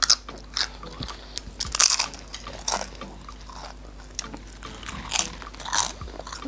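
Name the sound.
biting and crunching loaded cheesy nachos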